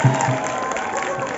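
An audience applauding and cheering to thank a music teacher at a school gathering, a dense, steady wash of clapping crowd noise at close range for the whole moment.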